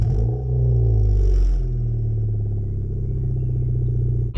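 A Ford Fiesta Zetec S 1.6 with a new loud exhaust idles with a deep, steady burble, close and continuous throughout with a slight swell early on.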